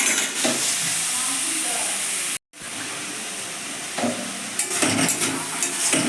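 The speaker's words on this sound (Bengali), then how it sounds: "আলু, ক্যাপসিকাম আর গাজর, লঙ্কা পেঁয়াজটা একটু পরে দেবো। এগুলো ভাজা ভাজা করে আসলে আমি লঙ্কা পেঁয়াজটা দিয়ে দেবো।" Potato, capsicum and carrot frying in a pan give a steady close sizzle with stirring scrapes, broken by a brief silent gap partway through.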